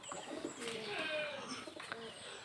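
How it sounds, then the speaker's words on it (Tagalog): Backyard pigeons coo softly in low, rolling calls, with faint chirps and rustling around them and no talking, in a rural Philippine setting. "Yung aming mga kalapati."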